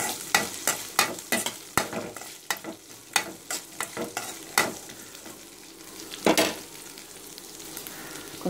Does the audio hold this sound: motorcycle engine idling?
no